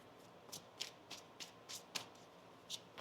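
Quiet riffle shuffles of tarot cards, a series of soft quick flutters spaced about every third of a second, close up.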